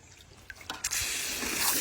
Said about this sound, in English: Put the birds some fresh water in their little bird thing.